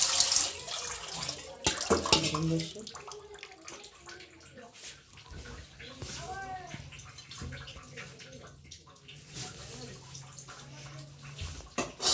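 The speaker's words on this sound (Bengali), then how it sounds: "ধুয়ে নিলাম পরিষ্কার পানিতে" Potatoes being washed in clean water, with splashing and running water close by in a basin, interrupted by handling clunks, while a person talks quietly over it.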